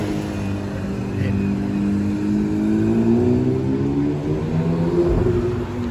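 A Porsche GT3 sports car drives past at night in Monaco, its engine note rising and falling as it moves by, moderately close under a steady street background.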